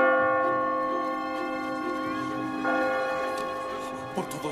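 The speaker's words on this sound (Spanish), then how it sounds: "Por todos los santos, la campana de San Marcos." A large church bell of Saint Mark's rings with a long sustained metallic hum, steady tone fading slowly, with faint voices at the end.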